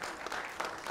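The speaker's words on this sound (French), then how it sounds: "une autre salle d'applaudissements à Marie-Noëlle Neva" An audience applauds a film director at a ciné club screening, a dense even patter of clapping from a room full of people, brief and steady.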